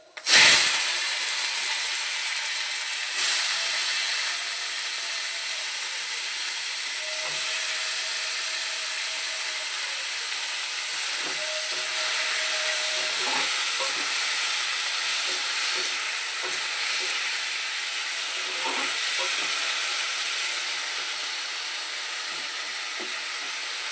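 Tomatoes dropped into hot oil with mustard seed and a chili for tomato chutney, bursting into a loud, steady sizzle that hisses continuously with faint clinks of stirring, no talk.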